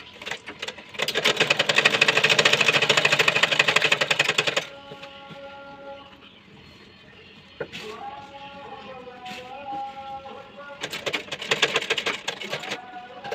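A sewing machine stitches a neckline on a garment, running in two loud, rapid buzzing bursts separated by a quieter stretch where a person talks.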